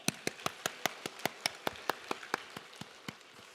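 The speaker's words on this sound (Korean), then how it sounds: "우리 하나님께 영광의 박수 올려드리겠습니다." A church congregation at a Korean Sunday worship service claps in unison, sharp, evenly spaced claps in a quick steady rhythm, close and distinct, thinning slightly toward the end.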